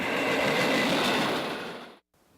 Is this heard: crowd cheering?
no